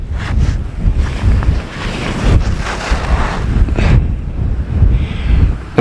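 Strong wind batters a cliff-top spot at Bennan Head on the Isle of Arran, roaring and buffeting steadily close to the microphone, with gusts swelling and easing over a constant rumble and no voices.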